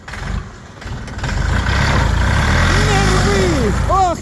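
A small three-cylinder mini tractor engine runs and revs up loudly and steadily, with a voice briefly speaking over it near the start and some rising whistle-like tones toward the end.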